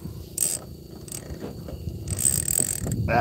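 A fishing reel's mechanism clicking and ratcheting in short bursts, close and fairly quiet, with irregular pauses between runs of clicks.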